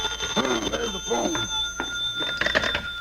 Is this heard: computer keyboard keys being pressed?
no